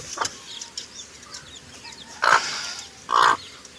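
A native mother hen clucks among her chicks, two short, loud, close clucks following a fainter one, with quiet background between them.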